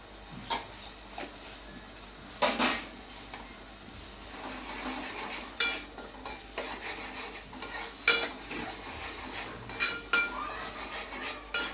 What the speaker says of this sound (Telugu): అల్లం వెల్లుల్లి పేస్ట్ పచ్చి వాసన పోయే వరకు కలుపుకోవాలి.